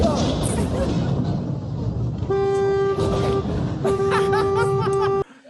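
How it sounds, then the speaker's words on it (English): A car horn on the road honks in two sustained blasts, the second longer and louder, over traffic noise while people talk and laugh nearby. "I think like someone else is honking."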